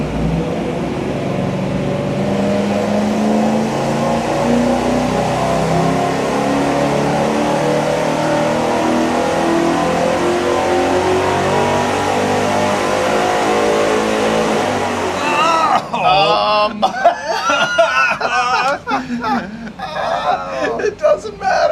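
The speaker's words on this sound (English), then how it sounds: "Here we go with our first test with that Y-shaped merge and the single 3-inch exhaust." An engine on a dyno test, fitted with a Y-shaped merge, a single 3-inch exhaust and a turbo muffler, holds a loud sustained rising roar under load, then cuts off as people talk.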